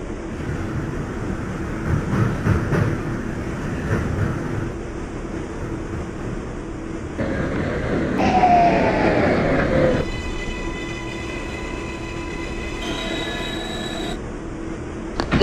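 Simulated R142 subway train on the 6 Local line in the OpenBVE train game, running with a loud steady rumble and rolling noise, squealing wheels and rising motor whine midway, no voices.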